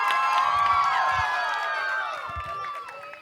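A crowd at a Home Minister show cheers and shouts for three dancers, a dense, lively mass of high voices and whoops that holds steady and then tapers slightly.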